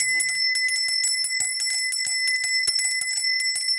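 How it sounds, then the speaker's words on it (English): A handmade brass bell rings in a quick series of bright, repeated strikes, clear and sustained tones layered close together with no talking. "Ring your brass bell."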